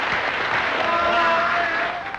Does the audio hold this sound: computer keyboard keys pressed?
no